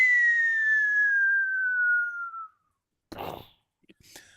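A Clangers-style sound effect: a long, clear falling whistle-like tone held for about two and a half seconds, then a brief breathy burst and a couple of faint clicks.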